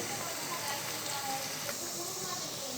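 Steady sizzling hiss of mutton frying with ginger and garlic in a pan for mutton biryani, continuous and fairly even, with a voice faintly beneath it.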